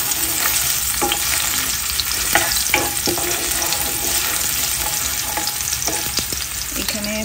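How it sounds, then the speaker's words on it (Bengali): Chopped garlic frying in a pan with fish (pabda) cooking nearby, a steady loud sizzle with a few scraping stirs, close up and without talk. "রসুন কুচি রসুনটা একটু করে ভেজে নেই"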